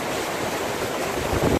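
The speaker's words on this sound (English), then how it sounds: "The water's coming out the wrong end though." Water splashes and gushes steadily from a carved stone face on a Yorkshire Dales walk, a close, continuous broadband rush with no voices over it.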